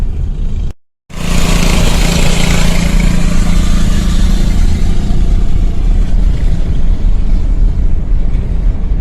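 Coleman mini-bike with a throttle stop mod, its small engine roaring loud and close after a brief cutout, a sustained steady drone at full throttle with wind rush.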